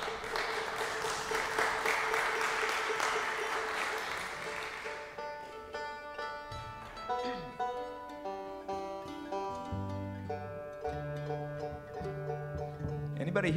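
Dense concert crowd applause for an opening band fills an old church venue for about five seconds, then fades as guitar and string notes take over and play on to the end.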